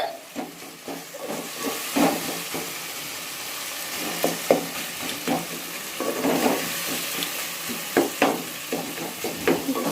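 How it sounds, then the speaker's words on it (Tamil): Ingredients for a prawn curry sauté in a pan, giving a soft sizzle with a steady hiss. Repeated scraping and stirring strokes sit close by at a moderate level, and there is no talk. "நல்லா வதங்கிச்சு. வதங்குது கொஞ்சம் கொஞ்சம்."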